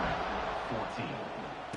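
A stadium crowd at a Mizzou at Georgia college football kickoff, a dense, steady roar of cheering that fills the space with no break across the short stretch.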